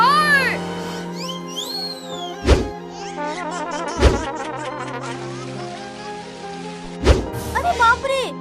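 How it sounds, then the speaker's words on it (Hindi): Water dumped down like rain on people as a prank, with several heavy thumping splashes over a bed of music and sound effects, while voices talk. "अरे बाप रे, यहाँ बरसात कैसे हो गई?"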